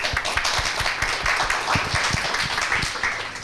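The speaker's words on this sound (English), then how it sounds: "So a big applause to Pavel" Conference audience at a research pitch session applauds a speaker with a short burst of clapping, distinct individual claps audible within the steady patter, tapering off near the end.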